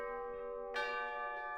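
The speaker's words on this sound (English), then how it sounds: "the bell rang, signaling the end of lunch break" School bell ringing at the end of lunch break, a sustained bright tone with a fresh strike partway through, moderately loud and alone.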